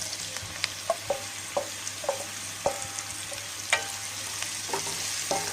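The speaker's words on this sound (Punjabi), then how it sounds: "ਤੇ ਤੋਰੀਆਂ ਨੂੰ ਮਸਾਲੇ ਵਿੱਚ ਮਿਕਸ ਕਰ ਦਵਾਂਗੇ" Ridge gourd pieces are stirred into masala frying in a pan, a low steady sizzle punctuated by regular scraping knocks of the spoon against the pan, close and without talk.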